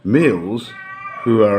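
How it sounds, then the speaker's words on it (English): Pet cat meowing close by in a drawn-out, rising-and-falling cry, then a second meow after a short pause, with a person talking in between. "that's the cat, just ignore him, he's a pain in the ass"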